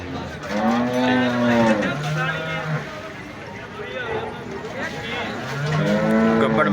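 Buffalo at the Kharian cattle market give several long, deep moos, loud and close, with people talking over the crowded market noise.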